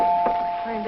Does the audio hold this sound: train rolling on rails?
no